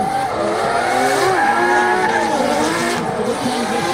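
Drift cars sliding side by side at a D1GP event, tires squealing in loud, sustained wavering tones over steady engine roar, close to the listener and continuous throughout.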